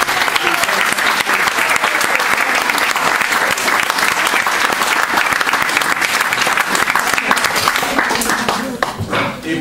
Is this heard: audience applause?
yes